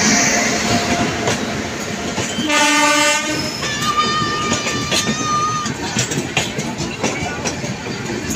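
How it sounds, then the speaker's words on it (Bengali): The Farakka Express arriving at a station at night, with a loud blaring train horn, then rolling wheels clattering rhythmically on the rails, close and loud, alongside a high whistle-like tone. "আসছে আমাদের ট্রেন, আমরা এখন অপেক্ষা করছি"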